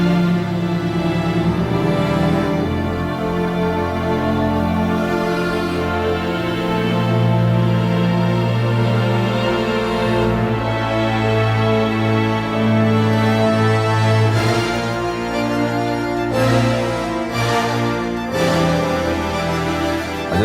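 Orchestral film score for a hardcore action film, with full strings including cellos, violas and violins playing sustained layered lines, loud and continuous throughout, with brief swells and accents toward the end.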